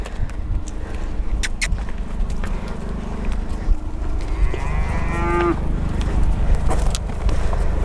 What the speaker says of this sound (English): we've got real super wild cattle here